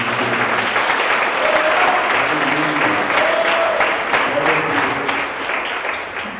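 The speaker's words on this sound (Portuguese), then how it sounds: "Dê um aplauso ao Senhor por isso." A church congregation applauds during a worship service, a dense, sustained wash of clapping that stays loud throughout and tapers slightly at the end, with faint voices mixed in.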